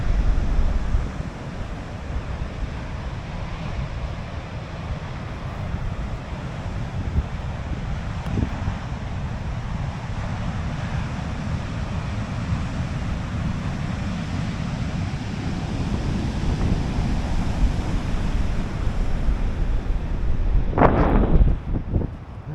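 Continuous roar of ocean surf and wind on the beach at Gualala, a steady wash that swells louder near the end with a brief sharp bump of handling noise.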